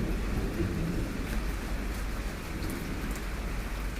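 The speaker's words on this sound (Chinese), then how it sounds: "这边又下雨喽，刮风喽。" Steady rain hisses down with gusty wind and a low rumble underneath, a continuous stormy wash of sound.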